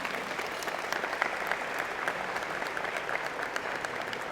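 Audience at a college of engineering and computer science convocation applauding, dense steady clapping from a large crowd at moderate distance, sustained throughout with no voices standing out.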